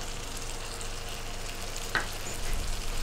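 Eggplant fries in a pan as a splash of water is added, giving a steady close sizzle with a short sharp hiss and crackle partway through, then slightly louder bubbling.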